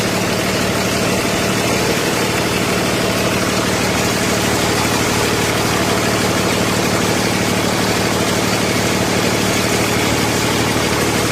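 A 2016 Freightliner Business Class M2 106 truck with a red top Cummins diesel idles in a steady, loud, unbroken rumble with a constant low drone and no voices.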